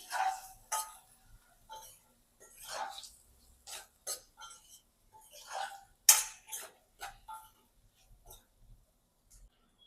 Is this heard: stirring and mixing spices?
yes